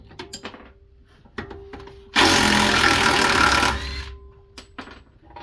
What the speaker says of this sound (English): I got an impact, so noise alert.